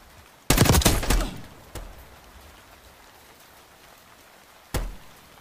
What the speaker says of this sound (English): I hear somebody shooting.